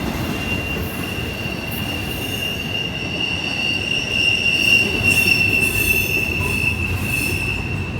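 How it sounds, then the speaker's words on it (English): Train wheels squeal in a sustained high, piercing tone on a rainy day, over a continuous rumble of rolling railcars, loud and steady throughout. "Probably just a squeaky brake or something, or squeaky wheel maybe, I don't know."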